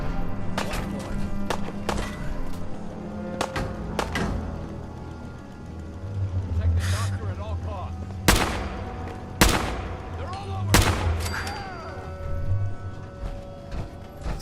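Gunfire aimed at the player in Fallout 4 during the Covenant quest, with repeated sharp shots at irregular intervals, some loud and close, over a continuous game backdrop with a low hum and music.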